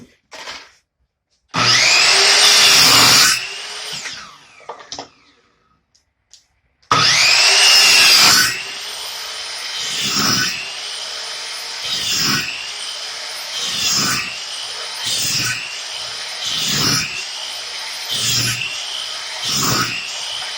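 A Hart 7 1/4 inch chop saw cuts 3/4-inch-thick plywood strips: a loud whining motor bursts into a cut, pauses, then spins up again through a series of rhythmic cuts.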